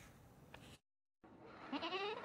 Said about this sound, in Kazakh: Бұл альпы тұқымына жататын ешкілер сүтті әрі суыққа төзімді